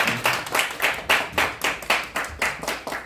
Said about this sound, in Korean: 환영의 박수 한번 부탁드리겠습니다